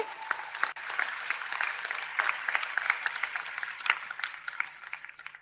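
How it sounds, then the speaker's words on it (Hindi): Steady applause from a crowd at a political gathering in Jaipur, cheering on a young girl: dense, continuous clapping that stays fairly even and moderately loud throughout, with no talk over it. "एक बार फिर आप सभी की तालियां इसकी हौसला अफजाई के लिए"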